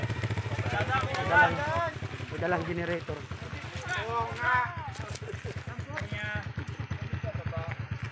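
A motorcycle rumbles steadily at close range while it crosses a hanging bridge, its low engine drone continuous beneath several people talking throughout.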